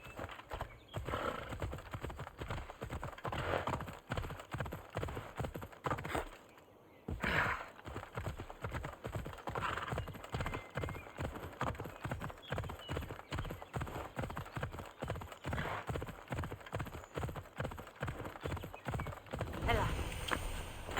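A horse gallops in Assassin's Creed Odyssey, rapid rhythmic clip-clop hoofbeats with a neigh, close and continuous apart from a brief lull, with a voice speaking over it.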